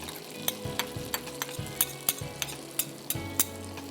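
Butter sizzling in a pan as a tablespoon of crushed garlic fries, with a steady close crackle broken by regular sharp clinks and scrapes of a spoon against the pan.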